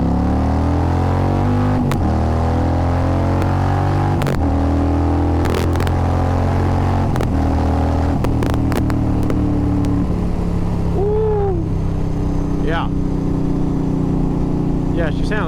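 Loud motorcycle engine close by, running with a rough harmonic drone and a few sharp revs and pops, the idle dropping near the end with a brief whine.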